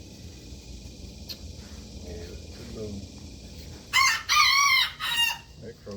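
A rooster crows once nearby at a rural home, a loud, strained cock-a-doodle-doo rising from a quiet outdoor background of faint insect chirping and soft, distant talk.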